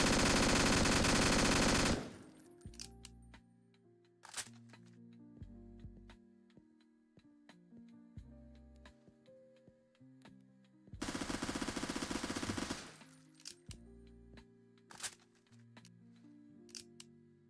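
Rapid automatic gunfire from a 35 mag gun in a Roblox-style jail map game, two loud sustained bursts separated by musical tones and game effects, close and dominant.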